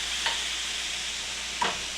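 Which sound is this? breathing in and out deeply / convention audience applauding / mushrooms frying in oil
mushrooms frying in oil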